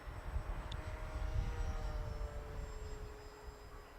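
A Durafly Beechcraft M35 Bonanza RC plane flies in a headwind, its small electric motor giving a faint, steady high whine that shifts slightly in pitch over wind rumble, heard from a distance.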